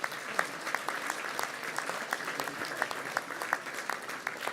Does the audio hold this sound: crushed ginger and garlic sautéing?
no